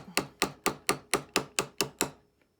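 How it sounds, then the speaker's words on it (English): A larger hammer strikes a tube rivet set in acrylic, eight sharp, evenly spaced ringing blows close up, each decaying quickly, followed by silence. "Now I do have that other hammer of mine that has a, you know, that one's a little bit bigger."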